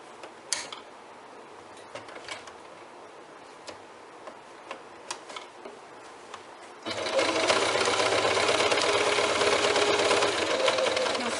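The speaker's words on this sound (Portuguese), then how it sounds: "faço essa costura reta em todos os blocos escuros, simplesmente para realmente segurar o meu bloco" A sewing machine runs a straight seam across dark quilt blocks, with a few quiet ticks and clicks of handling before the motor starts up for a steady, continuous stitching whir that is loud and close.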